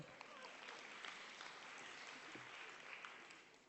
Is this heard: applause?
yes